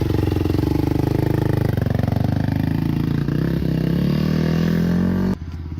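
Yamaha WR450F dirt bike engine revving hard through the gears, a loud, close, buzzing four-stroke note climbing in pitch across shifts before cutting back abruptly near the end.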